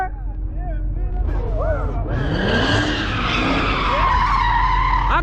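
Widebody Dodge SRT Hellcat drifting, its tires skidding and squealing loudly and continuously under a roaring engine, heard from inside the car with voices talking over it.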